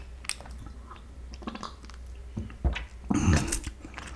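Close, wet chewing and crunching from someone eating KFC fried chicken. Soft squishy bites and mouth sounds come at irregular intervals and end in a louder crunchy burst.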